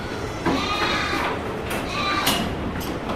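Barbari goats bleating on a goat farm, a couple of nasal calls rising over steady background farm noise, fairly close and moderately loud.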